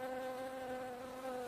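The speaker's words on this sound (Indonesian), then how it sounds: "Lalu para lebah yang kaget pun berhamburan keluar dari sarangnya" A dense, angry swarm of bees pours out of a hive as a sound effect, a steady loud buzzing drone with layered wingbeat tones, continuous and close.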